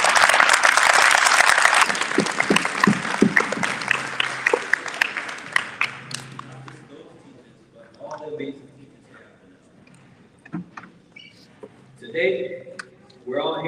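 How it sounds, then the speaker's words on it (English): An elementary school audience gives loud applause for teachers at a school assembly. The clapping is strongest at first, fades away over several seconds, then gives way to a speaker talking. "So I ask that we give a round of applause for those teachers,"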